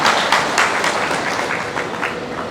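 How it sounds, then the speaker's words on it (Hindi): A crowd at a farmers' and workers' political meeting in Haryana claps to welcome a guest, a loud burst of rhythmic applause that slowly fades. "बहुत जोरदार तालियों के साथ भाई रणजीत सिंह जी।"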